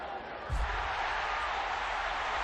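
A wrestling arena crowd in WWE 13 gives a steady, dense roar of cheering and murmur that fills the space without clear peaks, over a low thump near the start.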